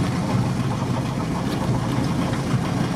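The engine of a Volkswagen Transporter T3, running with its rear engine cover missing on an off-road outing, gives a steady, close, rumbling drone at an even pitch, with no voices over it.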